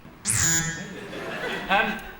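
A loud electronic game show buzzer sounds on the TV panel show 8 Out of 10 Cats, then a second shorter buzz follows, with people chuckling and voices in the background.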